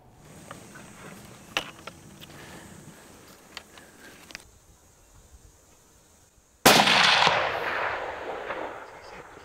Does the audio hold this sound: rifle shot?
yes